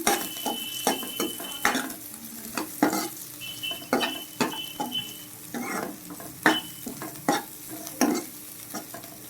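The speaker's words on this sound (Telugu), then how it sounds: "రెండు గంటలు నానబెట్టి ఇప్పుడైతే చక్కగా వేయించుకుంటున్నాం" Soaked ingredients fry in ghee in a pan for sheer kurma, a soft sizzle beneath repeated scraping and clinking of a spoon stirring against the metal in an uneven rhythm, close and without speech.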